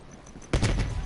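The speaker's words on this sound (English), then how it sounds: "you follow the road right toward the sound of gunfire" A sudden, dense burst of video game gunfire in Black Ops: Cold War erupts after a quiet moment and keeps rattling on as rapid, loud overlapping shots.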